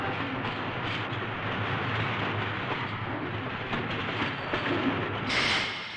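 A French train arriving at Toulouse-Matabiau rumbles steadily along the rails with a continuous broadband roar, close and loud, with a brief hiss near the end.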